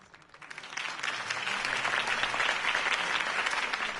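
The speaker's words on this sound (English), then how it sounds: "could have heard that applause" Applause from a large crowd in the video game Batman: The Telltale Series swells over the first second, then holds as a dense, steady roar of clapping to the end.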